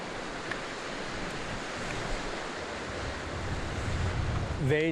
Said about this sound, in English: The waves reach a height of 13 metres, presenting massive and endless energy potential.